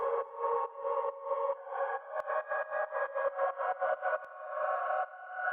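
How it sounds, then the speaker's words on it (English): An orchestral drill melody loop pulses under a half-time pumping effect, its chords swelling in and ducking in a steady rhythmic throb, played alone and fairly loud. "Just like that, so it'll swell in. We're going to do a 1/2 pump."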